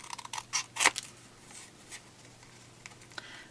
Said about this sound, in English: I'm just going to cut 2 strips